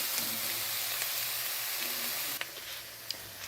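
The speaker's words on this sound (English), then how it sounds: "we're going to cook them until they just start to get translucent" A steady, soft sizzle of onions frying in a pan, continuous and close, with a faint click or two.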